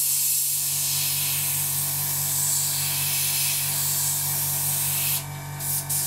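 An airbrush sprays paint at about 25 psi on a Seafire aircraft model, a close steady hiss that cuts off near the end with a couple of brief trigger releases, no talking.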